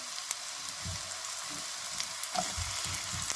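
White onion sizzling and frying in a pan for a vegetarian spaghetti stir fry, with a steady close hiss and a few light stirring knocks, no talk.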